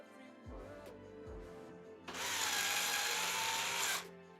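A power screwdriver drives screws into a Corsair 4000X PC case. Two short taps come first, then one sustained, loud motor whine of about two seconds that stops abruptly.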